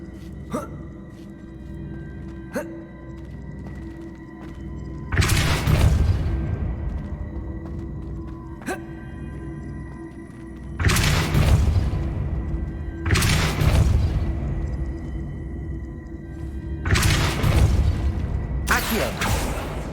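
Four booming Depulso spell blasts in Hogwarts Legacy, loud sudden bursts with crackling tails, spaced unevenly over a background of game ambience and small clicks.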